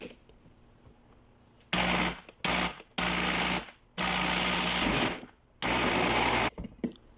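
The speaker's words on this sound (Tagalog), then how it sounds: "ilagay na natin dito sa blender. I-blend natin siya." A blender purées lentil soup, whirring loudly in repeated bursts, switched on and off about five times, with short quiet gaps between pulses.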